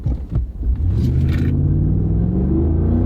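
A Ford F-150 pickup's V8 roars as it launches off the starting line at a drag strip, a loud, steady engine drone with the pitch climbing smoothly under acceleration.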